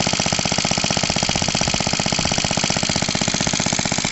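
A small stationary engine drives a Lucas 12v dynamo, its loud, rapid, evenly spaced firing beats hammering steadily throughout at close range with no voices.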